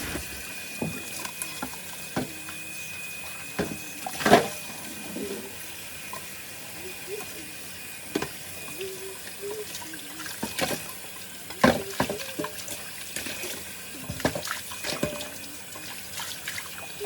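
Dishes washed in a kitchen sink under running tap water, a soft steady stream with scattered clinks and clatters of plates and utensils throughout, close and fairly quiet.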